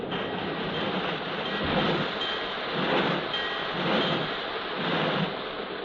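A train backs out of a rain-swept train shed coupled to a wooden caboose, giving a continuous rumbling roll with slow rhythmic swells of wheel noise, steady and fairly loud, with no voices.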